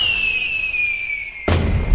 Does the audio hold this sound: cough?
no